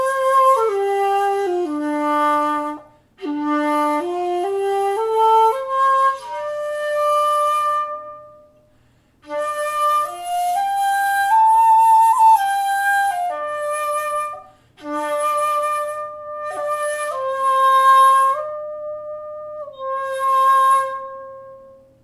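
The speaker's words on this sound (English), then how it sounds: "we'll get a more subdued kind of classical sound that's typical for antique jiari and jinashi shakuhachi" An antique shakuhachi, an Edo-period jinashi bamboo flute, is blown close to the edge for a subdued classical tone. Long breathy sustained notes and slow melodic phrases are played alone, with short pauses between them.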